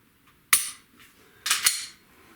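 Two sharp clicking snaps from dry-fire trigger pulls with a Mantis X10 Elite shooting system, spaced about a second apart, close and crisp in a quiet room.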